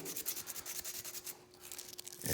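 Emery cloth rubbed briskly against a metal furnace part to clean it, a steady close scratchy abrasion with quick repeated strokes that never stops over about two seconds, alongside a faint constant hum.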